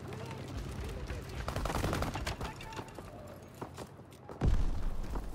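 Gunfire in the World War II shooter Call of Duty: WW2 during a multiplayer Domination match, with scattered shots and short bursts over game background noise and voices, plus a heavier blast near the end.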